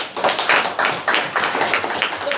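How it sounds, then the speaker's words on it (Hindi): A church congregation clapping loudly together at a prayer service, a dense burst of hand claps with rhythmic pulses that continues steadily throughout. "अरे जोरदार ताली बजाओ।"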